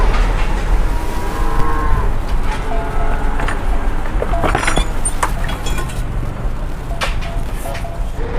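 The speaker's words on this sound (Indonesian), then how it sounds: "Ini ada sapi dari Lembu Suro datang." Cattle brought by truck for Qurban 2021 moo repeatedly, long low calls rising over a constant rumble of engine and handling noise, with occasional metallic clinks nearby.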